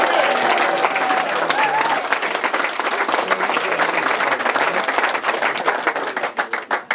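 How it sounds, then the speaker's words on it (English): Wedding guests break into sustained applause, a dense steady patter of many hands clapping that thins toward the end, with faint voices underneath. "Let's have a round of applause."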